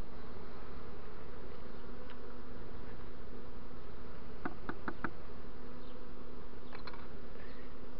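Honey bees buzz around a swarm and hive in a steady, dense drone, with a few faint clicks over the constant hum.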